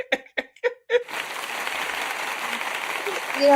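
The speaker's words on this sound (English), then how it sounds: "round of applause for me, dadgummit" Round of applause during a home gym talk show, a steady wash of clapping that runs for about two and a half seconds right after a few brief bursts of talk.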